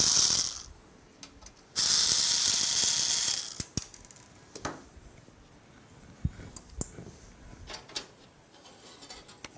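Screws holding a PC case frame undone with a powered screwdriver, two bursts of steady whirring, followed by scattered small clicks and taps of parts and screws.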